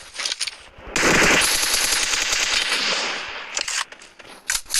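Rapid automatic gunfire in the mobile battle royale game PUBG Mobile, a loud sustained burst of machine-gun shots flanked by shorter crackling volleys, close and without talk.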